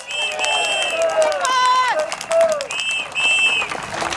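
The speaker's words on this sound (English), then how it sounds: "a very warm round of applause for Mr. Tan Ji Se" A political rally crowd at Chinese Garden in Singapore claps and cheers, steady applause running under a loud, lively crowd with voices rising over it.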